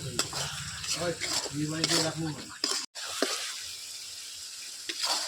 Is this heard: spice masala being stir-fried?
yes